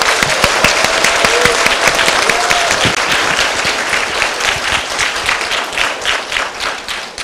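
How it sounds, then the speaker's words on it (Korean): An audience at a book-city author lecture gives a guest speaker loud, dense applause that swells early and then settles into sustained clapping, with some cheering. "큰 환호의 박수 좀 보내주시죠"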